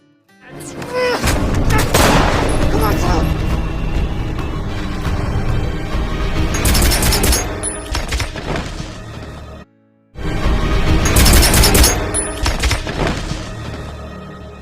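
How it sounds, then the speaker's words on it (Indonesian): Gunfire in a crime film about gangsters and safe robbers: loud, sharp shots and crashing impacts pile up in dense, sustained bursts, broken by a brief gap of silence before another heavy volley. "paling arogan dan pelontong yang bernama Jin melakukan kesalahan dengan menembak Doggy yang telah melihat wajahnya."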